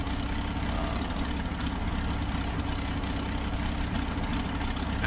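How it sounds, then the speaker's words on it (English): A P-51 Mustang's V12 engine starting up in a flight simulator, a steady dense low rumble that holds loud and even throughout with no talking. "Engine's coming alive."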